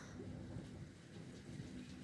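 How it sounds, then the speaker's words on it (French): Heavy rain pours steadily outside during a strong, electrical thunderstorm in Linselles, northern France, on a May evening, a constant low rushing hiss with faint rumbling beneath, fairly distant and never breaking into a sharp crack. "Je sais pas si on voit le déluge que c'est dehors. Bon ben, orage fort."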